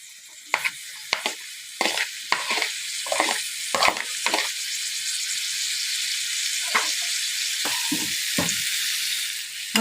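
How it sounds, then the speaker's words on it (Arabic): Peppers in a quick sauté sizzling steadily in a pan, a continuous hiss of frying punctuated by irregular scraping and clacking stirs of a utensil, close and fairly loud. "تشويحه بسيطه خالص مع الفلفل"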